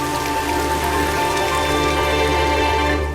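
Steady rain falls continuously, a dense even patter on surfaces with a constant low hum beneath, no voices.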